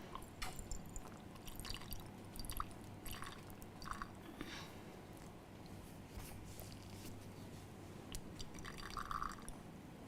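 Water from a wash bottle streams into a graduated beaker, giving a low, uneven trickling and splashing that runs continuously, faint and close, with small drips and clicks.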